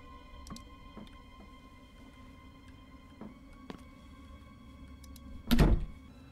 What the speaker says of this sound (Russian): А чё двери не закрываются